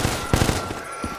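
Automatic gunfire in Black Ops 3 Zombies, a weapon fitted with an ACOG scope emptying its magazine, with a few sharp, close bursts in quick succession over a steady game background.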